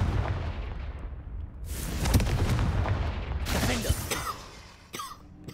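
Loud bursts from the Confringo explosion spell in Hogwarts Legacy, a few sharp blasts with crackling debris over a rumbling background, each cast followed by a short decaying tail.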